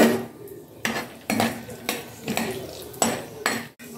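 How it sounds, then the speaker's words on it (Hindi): Peanuts roasting in a tablespoon of oil in a hot kadai, a spoon clattering and scraping against the metal in repeated close strokes, with faint background sounds between. "इसमें हम मूंगफली भून लेंगे।"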